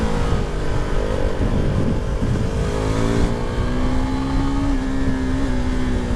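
A KTM RC390 sport motorcycle's single-cylinder engine runs under load, a steady throbbing drone with a rising pitch as it pulls, continuous and close, with wind rush on top and no talk.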